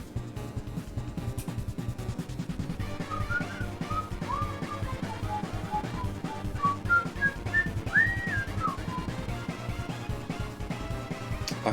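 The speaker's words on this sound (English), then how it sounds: "you can hear me whistling." A person whistles a wandering tune in short melodic phrases, close to the mic over a steady background of music or game sound during a stream.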